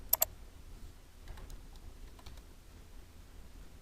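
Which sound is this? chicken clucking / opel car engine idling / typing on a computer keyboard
typing on a computer keyboard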